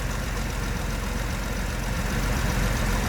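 A 1973 Jaguar XJ6 engine runs steadily after a cold start, a loud, even low rumble with a regular pulsing beat, heard close with no talking.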